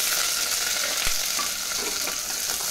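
Cumin, bay leaf, red chilli and finely chopped onion fry in hot oil with a loud, dense, continuous sizzle and one brief knock partway through, close up, with no talking.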